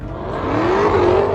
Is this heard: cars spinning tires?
yes